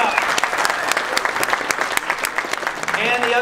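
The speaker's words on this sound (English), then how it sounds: "Clap it up." Audience applause at a SEMA 2018 automotive aftermarket education session, a dense, steady roar of clapping from a crowd, loud and continuous throughout with some cheering swelling near the end.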